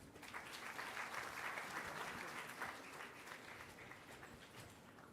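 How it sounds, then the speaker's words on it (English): Steady audience applause at a formal ceremony with the Governor present, a continuous wash of clapping heard at a distance, fairly soft and fading slightly toward the end. "Good round of applause."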